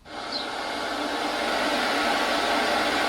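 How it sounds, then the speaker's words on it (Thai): Steady, even broadband pink noise test signal from a loudspeaker, holding at a constant level throughout with no voices. "สัญญาณปิ้งน้อย เป็นสัญญาณที่ มีความถี่ออกมาครบทุกความถี่นะครับ"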